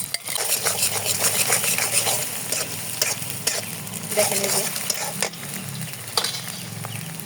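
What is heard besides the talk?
egg being stirred while frying in oil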